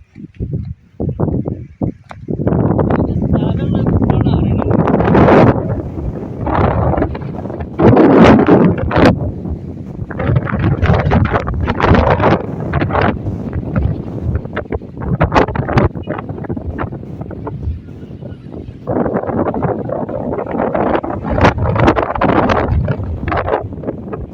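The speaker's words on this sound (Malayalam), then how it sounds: "ഒരു രക്ഷയില്ലാത്ത കാറ്റാണ് ഇവിടെ" Strong wind gusts buffet the microphone in heavy, roaring bursts, rising and dropping unevenly for the whole stretch.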